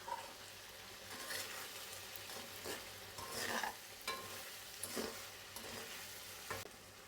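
Carrots fry in oil in a pan for a chicken shashlik, a soft steady sizzle broken by several louder scraping stirs of a spatula at irregular intervals, fairly quiet and with no talking.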